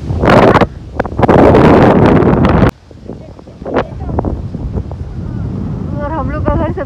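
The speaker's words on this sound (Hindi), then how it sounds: "हवा चल रही है यहाँ पे" Strong outdoor wind buffets the microphone in loud, rumbling gusts that ease midway into a lighter steady blow, while people talk over it.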